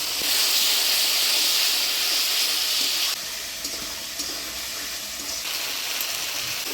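Spice paste with turmeric and salt sizzles and hisses loudly in a pan after a splash of water is added for a Bengali rohu fish and cauliflower curry, a steady steamy frying noise that drops slightly partway through.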